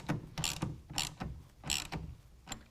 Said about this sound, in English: And I can go ahead and finish tightening down the clamp.